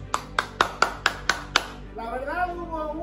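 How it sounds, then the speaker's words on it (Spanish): Seven sharp, evenly spaced hand claps ring out close by, followed by a voice talking after the claps stop, marking a win in a football prediction contest during a tournament recap. "¡Aplausos!"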